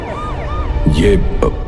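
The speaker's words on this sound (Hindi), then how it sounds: "पुलिस की गाड़ी आकर रुकती है।" A police siren wails in rising and falling sweeps, with voices and crowd murmur mixed in over a brief stretch.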